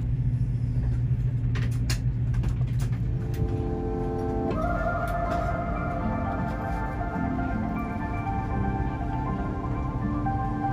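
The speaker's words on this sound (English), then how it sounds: "Soon it was time to push back and start our engines." Inside a Malaysia Airlines A330-200 cabin during pushback, a low engine rumble builds as the engines start, with a rising whine and steady tonal drone joining about halfway through, continuous and fairly loud.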